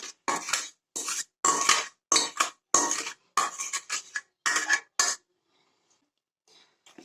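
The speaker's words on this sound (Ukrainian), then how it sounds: "я перемішую, тому що я додавала сюди есенцію" A spoon stirs a sweet babka casserole mixture with essence and sugar in a bowl, giving close, rhythmic scraping and clinking strokes in separate bursts before falling quiet near the end.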